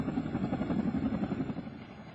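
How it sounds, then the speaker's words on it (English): Emergency evacuation helicopter carrying wounded troops to Camp Bastion in Afghanistan, a steady loud rotor drone with continuous low thumping throughout, no voices. "Emergency helicopter teams bringing survivors to the British military's Camp Bastion"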